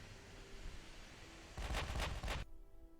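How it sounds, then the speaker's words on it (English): Naval guns from enemy warships thunder in the Ultimate Admiral: Dreadnoughts video game, a burst of three or four heavy, closely spaced booms over steady low battle rumble, loud and fairly near, then cut off abruptly. "they're at least returning fire now"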